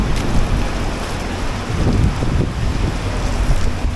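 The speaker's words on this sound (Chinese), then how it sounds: "起大风下大雨。" Heavy rain and strong wind batter an outdoor street stall, making a loud, gusty rumble with swelling surges and a continuous hiss of rain, close and with no one speaking.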